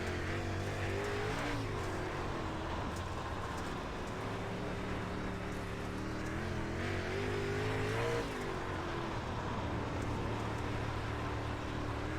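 Onboard a race car running at Cedar Lake: a loud, steady engine drone with rising and falling revs, heard continuously from inside the car throughout.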